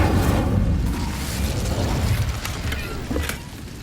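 The Incendio fire spell is cast in the video game Hogwarts Legacy, a dense whooshing, roaring burst of flame with a rumbling low end that holds steady for several seconds, punctuated by small crackles.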